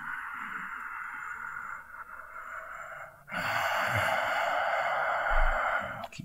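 Slow, deep breathing during a hatha yoga chest-opening stretch: a long steady exhale-like rush, a short pause, then a fuller, louder breath lasting several seconds, close and alone.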